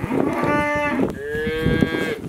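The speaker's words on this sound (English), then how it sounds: "Wagyu cows." Wagyu cows on a farm moo loudly and up close, two long drawn-out calls one after the other, with no talking.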